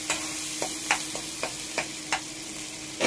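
A spatula scrapes repeatedly through potato pieces frying in a pan for a chickpea and moong dal dhoka curry. The strokes come at an uneven, steady pace over a constant close sizzle, with no talking.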